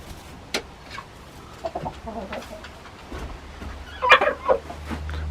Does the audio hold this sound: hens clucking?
yes